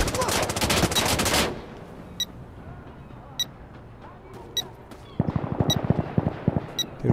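Automatic gunfire in Insurgency: Sandstorm comes as a loud rapid burst at the start, then a few sharp isolated shots. A second, lower rattling burst follows near the end over quiet background.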